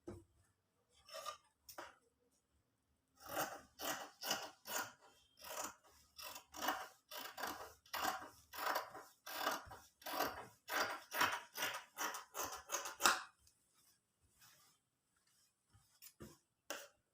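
Scissors snip through embroidered blouse fabric in a steady run of crisp cuts from about 3 to 13 seconds, with a few isolated snips before and after, close and alone without any talk.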